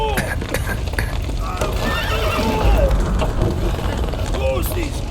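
Horses neigh and whinny in a burning stable in The Witcher 3, with shrill calls rising over hoof clatter, crackling fire and chaotic background noise, and a voice shouting through the din.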